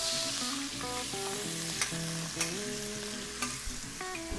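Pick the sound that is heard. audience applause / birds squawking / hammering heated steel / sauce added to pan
sauce added to pan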